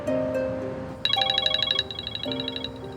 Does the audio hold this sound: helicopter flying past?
no